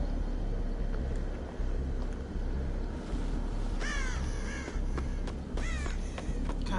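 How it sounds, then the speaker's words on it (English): Crows caw outdoors, a few harsh calls near the end over a steady low background rumble, moderately loud with no speech. "Goddamn birds."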